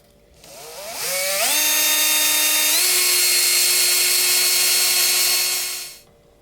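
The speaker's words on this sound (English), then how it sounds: "before I commit to drilling some holes" A power drill bores holes in the body of a Flying V electric guitar. Its motor spins up in quick steps to a steady high whine, holds for about five seconds, then winds down close and loud.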